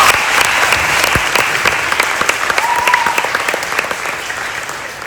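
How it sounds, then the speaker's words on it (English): Graduates at a senior night ceremony clap in a loud, sustained round of applause, dense crackling handclaps filling the room and slowly tapering toward the end. "So please give yourself a big round of applause."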